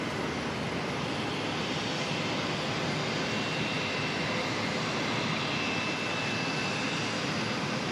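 A jet aircraft with its landing gear down passes over Auckland Airport, a steady, loud roar of engine and airflow that holds evenly throughout, with no talking.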